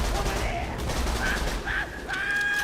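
Gwen's Head pistol firing in the video game Borderlands 2, a run of close, punchy shots mixed with game effects and bright electronic tones, with someone talking over it.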